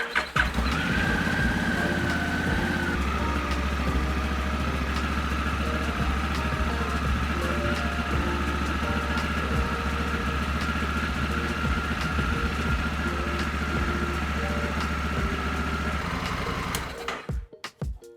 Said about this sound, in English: At this point, I'm gonna turn on the bike and test to make sure that they work.